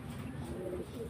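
Racing pigeon cooing close by, a single soft, throaty rolling coo with faint background noise.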